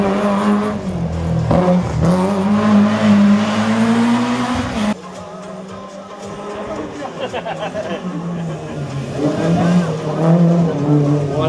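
A race car charges past at a hill climb course, its engine screaming loud and close, then the pitch drops and the note fades into a rougher revving as it pulls away, with a commentator talking throughout.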